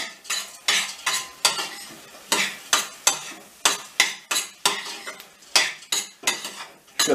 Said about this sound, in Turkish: Şöyle karıştırıyoruz.